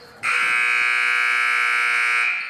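A basketball scoreboard buzzer at a middle school boys' game sounds to end the first quarter: one loud, steady electronic tone holding for about two seconds, then cutting off.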